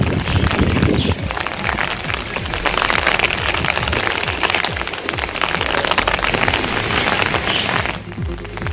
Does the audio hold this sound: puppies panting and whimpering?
no